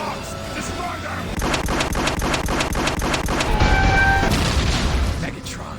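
Rapid bursts of energy-weapon gunfire from the Transformers War for Cybertron game crackle in a fast repeating volley, loud and close, mixed with game effects.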